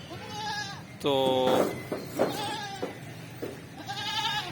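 A goat on a rooftop goat farm gives several loud, close bleats in short bursts, one at the start, a long one near the second mark and more toward the end, with someone talking in between.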